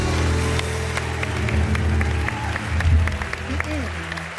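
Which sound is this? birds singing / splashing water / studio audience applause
studio audience applause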